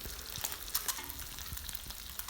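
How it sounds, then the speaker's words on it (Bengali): Eggs frying in hot oil in a home kitchen give a steady, close crackling sizzle with brief sharper pops scattered throughout, and no voices. "তাই আর বাকিগুলি ভেজে নিচ্ছি তেল দিয়ে"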